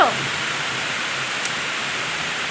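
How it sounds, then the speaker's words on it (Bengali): Heavy rain pouring outside, a dense steady hiss of rainfall throughout with a faint click partway through. "পুরো ঝমঝম করে বৃষ্টি হচ্ছে।"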